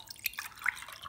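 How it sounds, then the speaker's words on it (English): Water trickles and drips into glass jars, soft splashy patters in a few quick bursts, faint and close, with no voices. "fill each cup with a little bit of water"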